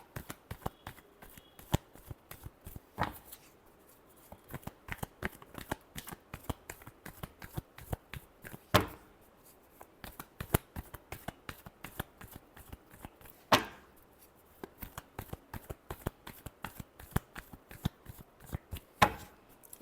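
Tarot cards being shuffled by hand, a steady run of quick, crisp riffling clicks with a few sharper slaps, close and alone without any talk.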